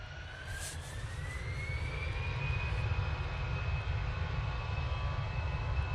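A Brussels Airlines Airbus A320 jet passes at Manchester Airport, a steady, fairly distant engine roar with a rising whine that slowly swells and holds, with no voices.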